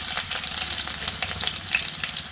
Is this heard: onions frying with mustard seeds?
yes